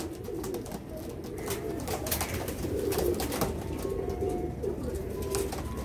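Pigeons, including one or two large adults, coo in repeated low throaty phrases close by, several calls overlapping against a faint background.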